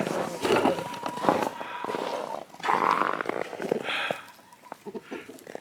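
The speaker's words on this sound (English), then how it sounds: "Some scraps from last night's supper. Alright, chickies, there they go." Backyard chickens cluck and squawk in bursts while pecking at scraps from the previous night's supper, close by and moderately loud, with scattered noises around them.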